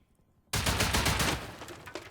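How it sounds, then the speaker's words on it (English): AK rifle fire in the video game Rust, a sudden loud burst of rapid automatic shots lasting about a second, then tapering into scattered fainter reports. "Oh, there goes the AK."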